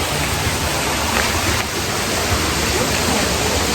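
Ulu Petanu waterfall in Ubud, Bali roars as a steady, loud broadband rush of falling water, continuous and close throughout with no pauses.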